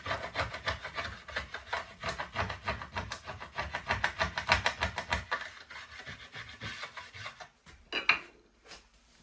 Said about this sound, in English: Just grab the scraper again and get rid of it.